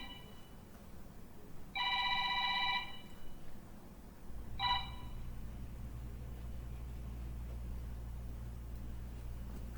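An electronic telephone ring sounds twice, a long burst followed by a shorter one, over a low steady rumble of background noise.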